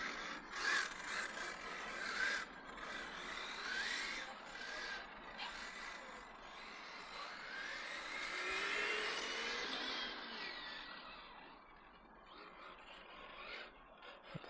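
An SNRC S86E remote-control car drives, its small electric motor whining and sweeping up and down in pitch with gritty mechanical rattling, faint and somewhat distant throughout.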